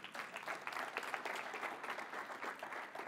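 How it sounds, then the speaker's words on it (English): A live audience at a FIRST robotics fundraising session applauds steadily throughout, a dense, even wash of clapping with no voices over it. "We can give them a round of applause for that."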